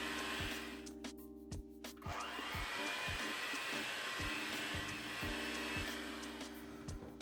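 An electric hand mixer runs steadily as room-temperature eggs are beaten into vanilla cake batter, a loud continuous whir with brief changes in pitch and pauses as the beaters work through the bowl.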